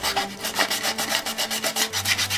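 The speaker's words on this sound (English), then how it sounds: "I'm gonna sand a little bit more this way" Hand sanding of a pine wood ornament, rhythmic back-and-forth scratchy rubs in quick regular strokes, close and fairly loud with nothing else heard.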